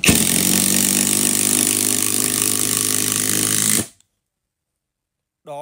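An impact driver drives a screw, a loud, dense hammering buzz lasting nearly four seconds before cutting off sharply into silence, then a brief burst of a voice.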